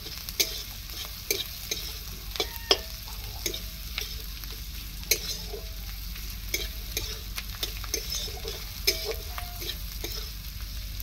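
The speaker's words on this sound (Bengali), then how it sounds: "পেঁয়াজটা লাল লাল করে ভেজে নিতে হবে একটু" Onions frying in a pan while being cooked until reddish-brown for a rohu fish curry, a steady close sizzle with repeated scraping stirs and spatula taps throughout.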